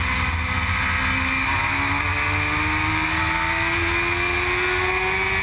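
Formula Gulf 1000 race car climbing a hill at the Dubai GP circuit, engine droning loud and steady with rising pitch as it accelerates, heard alone for several seconds.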